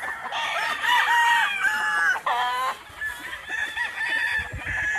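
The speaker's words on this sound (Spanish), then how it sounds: "Son algunos gallos de 3 años," Several three-year-old game-fowl roosters crow repeatedly on a breeding farm in Oklahoma, their loud, overlapping calls carrying close and distant across the yard with clucking between the crows.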